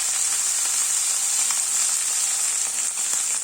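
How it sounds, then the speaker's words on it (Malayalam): Sliced onion and two green chillies sizzle in hot oil with ginger garlic paste, a loud, steady, close frying hiss with faint crackles and no voices. "ഇഞ്ചി വെളുത്തുള്ളി പേസ്റ്റ് ഇട്ട ഉടനെ തന്നെ നമുക്ക് സവോളയും 2 പച്ചമുളകും കൂടെ ഇട്ട് കൊടുക്കാം"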